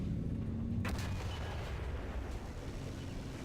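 Single tank cannon shot in War Thunder with an MBT-70: a sharp boom cuts through a steady engine rumble and trails off in a long low roar.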